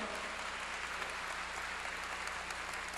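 Steady, dense clapping from a church congregation during a sermon, fairly faint and continuous throughout with no voices on top.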